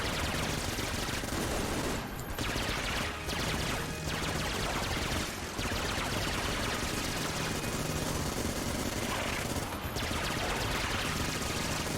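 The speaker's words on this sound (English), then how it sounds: "the Vulcan cannon fires as fast as this gun, because it was duct taped" Rapid gunfire from a gun in the video game Enter the Gungeon, a dense, continuous stream of shots that stays loud and unbroken for the whole stretch, with only a few brief dips.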